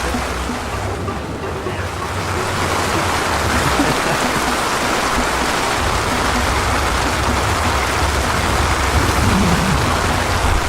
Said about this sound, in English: We're in Koh Lipe Island and the wind has picked up and there's lightning everywhere